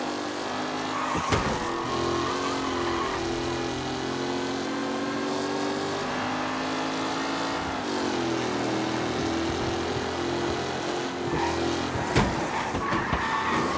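Race cars roar around a track in Mafia: Definitive Edition, engines droning in a tight pack with steady whining tones that shift and bend as the cars jostle, loud and continuous.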